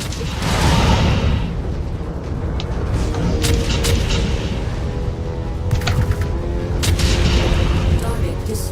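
Incoming missiles explode in MechWarrior 5, a dense rumbling barrage of booms and heavy impacts that stays loud and continuous for nearly nine seconds.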